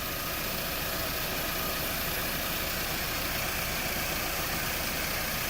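A Toyota Camry with a low-idle stalling fault idles steadily at close range, its engine hum continuous and even throughout, with no talking.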